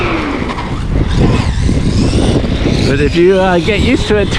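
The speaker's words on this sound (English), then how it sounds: "Grass is a little bit damp, so it's just spinning around" Arrma Gorgon two-wheel-drive RC car wheels spinning on damp grass, a continuous loud motor whine and churning roar that rises and wavers in pitch, with someone talking over it.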